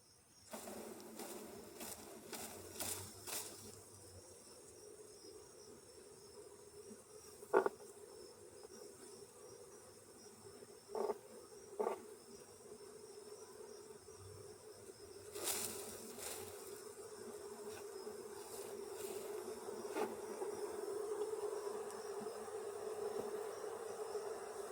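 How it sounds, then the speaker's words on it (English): A steady honeybee swarm buzzing drone runs throughout, low and continuous, with a few brief knocks and rustles rising above it as calm bees are put into a box. "They seem to be pretty calm bees."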